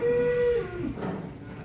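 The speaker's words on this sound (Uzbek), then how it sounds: "Mana qo'ylar." Sheep at a livestock market in Kyrgyzstan give a sustained, tonal bleat up close for about half a second, followed by a fainter call against the low murmur of the market.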